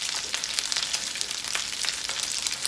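Cornmeal mush fries in a pan under a splatter screen, giving a steady, dense crackling sizzle with quick pops throughout, close and alone with no talking.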